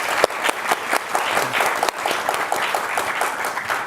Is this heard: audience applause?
yes